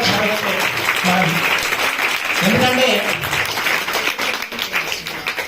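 An audience applauds at a temple ceremony for a Bhasma Aarti at a Hanuman temple, a dense burst of clapping that carries on under someone talking loudly into a microphone.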